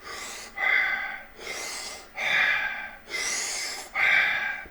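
Fast, deep breaths in a hypnosis induction: six rhythmic, close, breathy inhales and exhales alternating steadily, with no talk over them.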